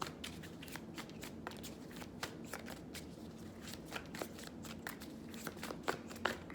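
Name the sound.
shuffling tarot cards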